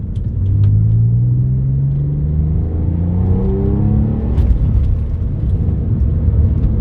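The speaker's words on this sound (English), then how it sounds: "you can probably hear the sports exhaust there" A car engine drones and rumbles through a deep sports exhaust, the low tone rising and falling as it accelerates and shifts, steady and fairly close.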